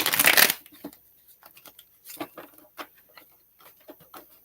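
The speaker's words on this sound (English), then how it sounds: "Let's give them a good riffle shuffle." Tarot cards being riffle shuffled close by, a burst of fast flutter followed by a string of soft, scattered taps and clicks as the deck is handled and squared.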